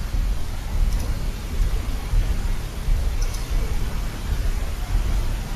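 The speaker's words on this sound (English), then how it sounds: "Okay, I hear rain." Steady rain in the MechWarrior Online video game: a dense, even wash with a low rumble beneath it that keeps the same level throughout, with no separate events standing out.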